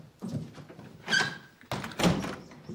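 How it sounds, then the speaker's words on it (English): A door being closed during a tense indoor scene produces a few thunks and a faint squeak, close and moderately loud. "Close the door."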